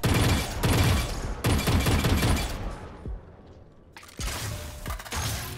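Vandal rifle in Valorant firing bursts of rapid, loud shots, then going quiet for a clicking mechanical reload before firing resumes, with no talk.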